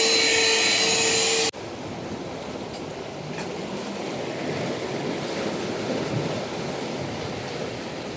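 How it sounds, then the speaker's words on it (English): A vacuum cleaner runs steadily aboard a Neel 51 trimaran sailing boat during an Atlantic crossing, a broad continuous whooshing drone that holds for several seconds after an abrupt change in tone near the start. "Vacuum cleaning."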